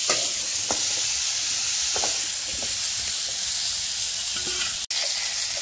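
Jenga vegetable and potatoes fry in a pan with a steady close sizzle and hiss, broken by occasional stirring clinks and one sharp knock near the end, with no talking.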